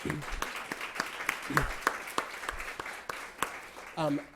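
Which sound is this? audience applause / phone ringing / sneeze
audience applause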